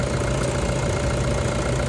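The 2.5-litre VN Turbo diesel engine of a 2012 Toyota Vigo Champ pickup truck idles with a steady, rumbling drone, close and constant, with no other sounds.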